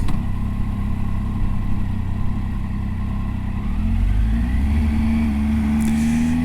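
Motorcycle on a Highlands touring ride, engine running steadily at idle then revving up with a rising tone as it pulls away in first gear, loud and close, with no talking.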